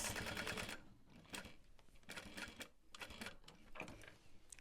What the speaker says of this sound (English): Now, I'll sew over top of all that.